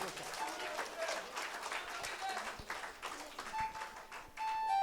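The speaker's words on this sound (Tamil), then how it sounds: "இசை கலைஞர்களுக்கு மீண்டும் ஒரு அரங்கம் நிறைந்த கரகோஷம்" A concert audience of the Qatar Sangamam music troupe applauds the musicians, producing a soft, distant wash of clapping with some crowd murmur and faint tonal notes.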